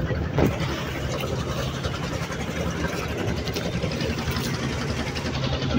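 Trawler boat engines chugging at Banaripara launch ghat, a steady mid-pitched motor drone close by with a brief knock near the start, constant and fairly loud throughout.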